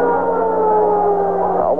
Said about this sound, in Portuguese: O que tem de sirene aqui no estádio Internacional não está mole